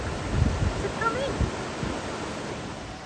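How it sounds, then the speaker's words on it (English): Broadband rushing water from a river lock filling after the paddle is cranked open, a steady wash with brief faint tonal sounds over it. "Now, the lovely Bernadette is going to crank that paddle open and fill the lock, ready for Wattway and their boat to come in"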